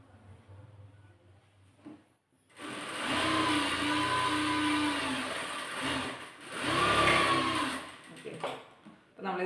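A sewing machine runs in two sustained bursts as it stitches along the edge of a kurti slit, its steady motor whir loud and close, preceded by a quieter stretch of room noise.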